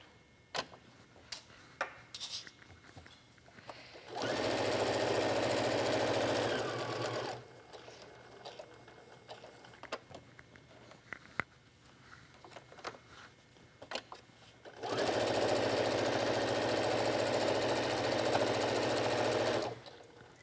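A sewing machine stitches a colorful wallet in two loud, steady bursts of rapid mechanical whirring, each lasting a few seconds and separated by a quiet pause filled with faint clicks and handling noises.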